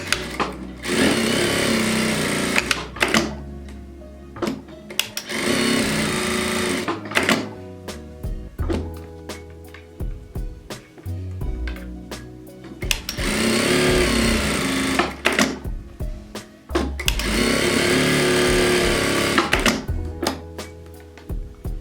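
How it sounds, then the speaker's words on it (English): A sewing machine stitches wadding or interlining onto a plain fabric lining for a storage container, running in loud, steady bursts of whirring several seconds long, separated by short pauses as the fabric is repositioned. "Then we will sew the wadding or interlining to the plain lining."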